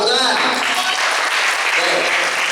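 Students applauding in a school hall during a prosecutors' school visit at SMAN 1 Torjun, a loud, dense wash of clapping with voices mixed in.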